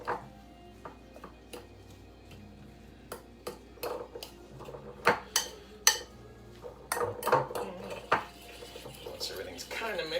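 Fork mixing potato waffle batter in a bowl, a run of light metallic clinks and scrapes that grow busier and louder toward the end, close by and with no talk over them.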